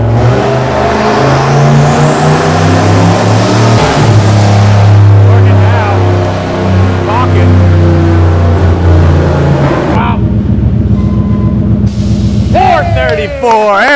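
A turbocharged V8 car engine revs hard on a dynamometer, loud and sustained with rising and falling pitch, a brief drop near the end, while people talk over it.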